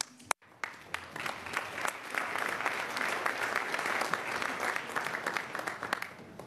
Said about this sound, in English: I take this applause as a sign of encouragement, recognition